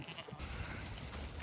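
Sheep on a farm, a flock being gathered in, with a brief bleat near the start over steady low outdoor rumble and noise.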